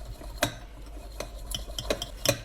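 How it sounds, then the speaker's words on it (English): Powdered sugar whisked into a dark chocolate blend: several sharp, irregular whisk and utensil clicks against a bowl over a quiet background hum, close and moderately loud. "And we whisk it carefully in this blend"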